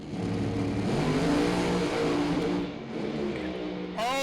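Pro Mod drag race cars accelerating down the track, a loud continuous engine roar that swells and holds, dips briefly, then climbs again, heard from trackside with a rising whine at the very end.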